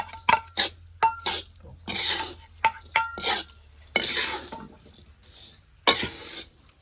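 Whole cashews and almonds are stirred into a gundar pak mixture in a pan, a spoon scraping and clinking against the metal in short, irregular bursts, close and fairly loud, with no talk.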